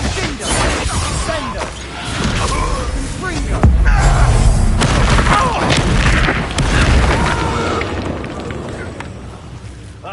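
Loud, dense fire spell blasts and crashing booms fill a Hogwarts Legacy battle, with continuous rumbling impacts and combat effects layered over a voice shouting spell names.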